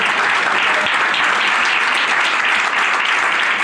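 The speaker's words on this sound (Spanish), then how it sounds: "Un aplauso, sí." An audience at a conference session in Spain's Congress of Deputies applauds continuously and loudly, a dense, even wash of clapping for the full stretch.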